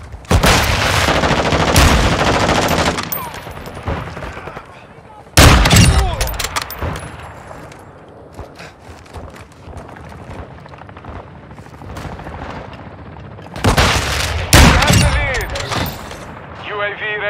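Automatic rifle fire in Call of Duty: Modern Warfare II multiplayer on Santa Sena, with loud bursts of rapid shots, a lull of scattered distant fire in between, then another heavy burst.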